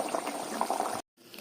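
Egg curry simmers on a stovetop with soft, close bubbling for about a second before cutting to near silence, then a fainter bubbling returns.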